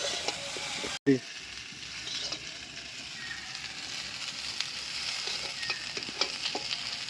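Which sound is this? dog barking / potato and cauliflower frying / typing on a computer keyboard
potato and cauliflower frying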